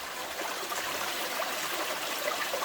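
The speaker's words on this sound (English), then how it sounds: "I wonder just how much water flows underneath these rocks" Water runs underneath rocks near Tadfa waterfall in Chaiyaphum, a soft, steady trickling gurgle, faint and continuous, with no voices.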